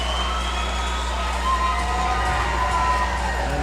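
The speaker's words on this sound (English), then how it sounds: "And the crowd enjoying what they see as Davis is in the box." Crowd at a Troy Trojans versus Toledo hockey game, a steady roar of cheering and shouting in an arena with low rink rumble underneath, swelling slightly midway.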